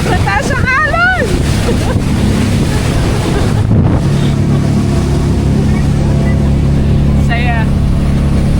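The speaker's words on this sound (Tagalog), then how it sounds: "Kasi naka-speedboat tayo." A speedboat sea ambulance runs between Zamboanga and Basilan over very high waves. A loud engine roar mixes with heavy wind buffeting and rushing water throughout, and a few brief voiced calls rise above the noise.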